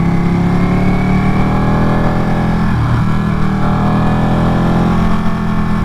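Ducati Panigale 959 sport motorcycle from 2018 ridden on a twisty mountain road, engine droning steadily and loudly throughout with constant wind rush, no one speaking.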